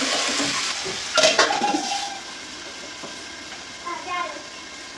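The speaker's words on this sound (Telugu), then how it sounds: "మనం కట్ చేసి పెట్టుకున్న పొటాటోస్ దీంట్లో వేసేసుకోవాలి. మంచిగా ఒకసారి కలుపుకొని" Potatoes are stirred into a curry in a pan, with a scraping spoon and sizzle, a burst of clatter early on and lighter scraping later, close by, with someone talking over it.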